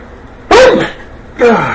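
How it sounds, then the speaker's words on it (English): Two sharp sneezes about a second apart come from a person at home in the kitchen, each a sudden loud burst that trails off, close to the microphone. "I'm going to sneeze."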